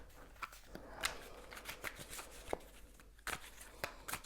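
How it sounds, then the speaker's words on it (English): Tarot cards are shuffled by hand in a quiet room: a string of crisp riffles and sharp slaps at uneven intervals, close and fairly soft, with no one speaking. "I'm going to shuffle and see what the cards have to say."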